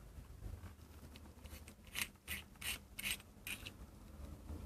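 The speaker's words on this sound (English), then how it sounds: "you're going to unscrew this base section here." Several short gritty scraping turns sound up close as the threaded base section of an Innokin iSub Apex sub-ohm vape tank is unscrewed, faint and spaced against a quiet room.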